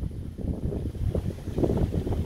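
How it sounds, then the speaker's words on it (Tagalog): Strong gusts buffet the microphone at Mtatsminda Park in Tbilisi, Georgia, at night, in a low, rumbling roar that rises and falls, with no voices. "Medyo malakas din ang hangin."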